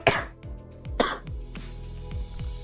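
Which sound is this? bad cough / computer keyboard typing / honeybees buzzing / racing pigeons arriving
bad cough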